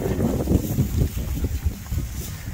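Wind gusting around a small vinyl-covered hobby greenhouse, a steady low rumbling buffet of air against the plastic sheeting with no talking, moderately loud and continuous.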